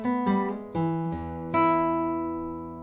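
A guitar plays an intro lick on the open first string: a few clear plucked notes, each ringing out and decaying in turn, heard alone and close up.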